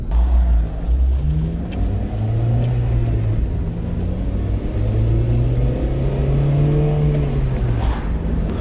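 A 2005 Acura RSX Type S being driven, its engine note rising and falling through gear changes over a constant low road rumble, close and steady with no talk.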